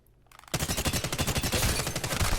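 Rapid automatic gunfire from the console shooter Apex Legends rings out as a loud, continuous burst of closely spaced shots after a quiet half-second lead-in, with no talk over it.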